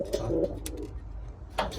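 Soft pigeon cooing from a breeding male, a low burbling call followed by another brief coo near the end, close by with faint background noise.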